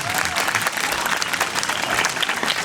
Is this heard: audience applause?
yes